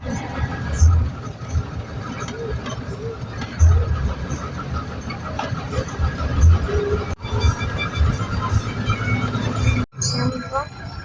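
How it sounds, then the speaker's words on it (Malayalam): Rumble and clatter of a train at a railway station, a continuous close mechanical drone with periodic thumps, while someone talks over it. "ഇപ്പോൾ റെയിൽവേ സ്റ്റേഷനിൽ എത്തിയിട്ടുണ്ട്."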